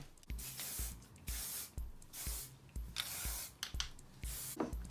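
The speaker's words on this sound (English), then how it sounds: "I just sort of like spray it through and scrunch it in" Repeated short bursts of hairspray, about eight hisses in quick succession, close and fairly loud with brief pauses between them.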